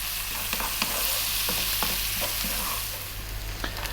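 Onions and curry leaves fry in a hot pan over medium heat, a continuous loud sizzle with intermittent scraping stirs and small pops throughout, no voices.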